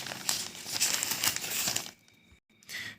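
A plain medium-size paper envelope for election polling materials is handled up close, with continuous crinkling and rustling for about two seconds, a brief pause, then another short rustle.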